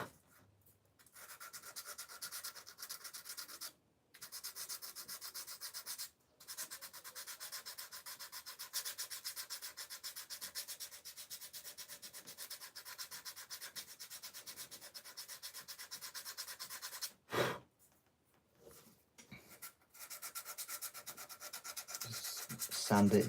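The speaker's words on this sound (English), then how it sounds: "sand it here." Sanding a piece by hand: steady abrasive rubbing strokes carry on almost continuously, close and fairly loud, with a few short pauses, no talking.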